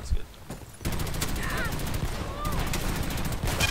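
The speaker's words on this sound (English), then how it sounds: "I got fucking sniped!" A sniper rifle shot in the Dirty Bomb video game, a sharp report followed by a dense stretch of gunfire and game noise, loud and close, with voices talking over it.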